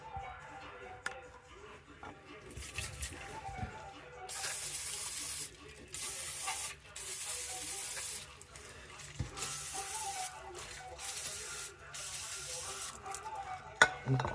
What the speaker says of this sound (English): Give her one last spray with cleaner and she's good.